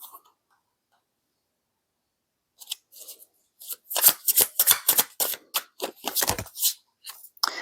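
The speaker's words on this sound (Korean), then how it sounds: "카드 사각거리는 소리가 ASMR 같고 되게 좀 좋거든요" Tarot cards being shuffled close up, a quiet pause followed by a dense run of crisp riffling and snapping card sounds, loud and alone with no talking.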